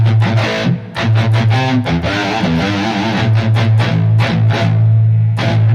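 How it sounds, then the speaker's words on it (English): A heavily distorted electric guitar through a Fractal Audio Axe-FX III with power amp distortion plays chugging chords and riffs, thick and saturated with a buzzy, compressed edge, loud and alone. "Here you can hear the power amp distortion."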